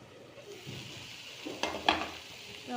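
A spoon scrapes and stirs okra stir-fry in a pan, giving a couple of soft clinks over a faint, steady sizzle, with no talking.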